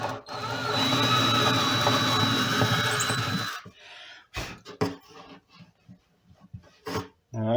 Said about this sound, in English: So we'll drill them out, see how we can do it.